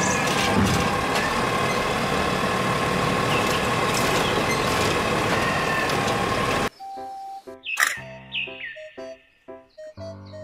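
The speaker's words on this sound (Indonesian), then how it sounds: "Mobil truk sampah" A toy garbage truck runs with a loud, steady mechanical engine drone for several seconds, then gives way to a series of short electronic tones and effects from the toy.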